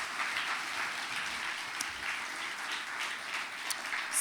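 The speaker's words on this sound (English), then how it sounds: "a wonderful round of applause for everyone, for all the schools, please" Steady applause from an audience at a school poetry event, a dense even wash of many hands clapping that holds at a moderate level throughout without a break.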